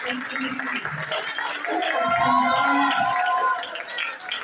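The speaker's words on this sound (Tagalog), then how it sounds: "Pwede po ba natin palakpak yung mga kamay na yan?" An audience claps hands during a church anniversary worship service, a dense patter of applause under a loud voice speaking over it, swelling in the middle and easing toward the end.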